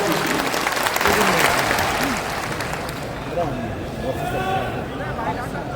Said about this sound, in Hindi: एक बार जोरदार ताली बजाकर इनका अभिवादन